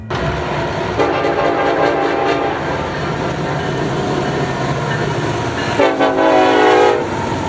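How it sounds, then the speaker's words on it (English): A freight train led by an SD70AH locomotive roars past loud and close, its horn sounding in long repeated blasts over the steady rumble of the train. "ZSCG2 being led by an SD70AH, with the crew spamming the crap out of the horn, which was really cool."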